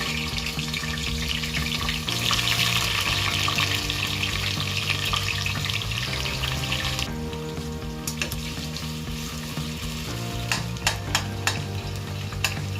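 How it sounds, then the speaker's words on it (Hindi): Onions frying in hot oil for a mutton dish, with a steady loud sizzle and crackle, stirring noises, and a few sharp splatter pops toward the end; no one speaks. "अब स्प्लैटर हो रहा है तो अब प्याज डाल लो"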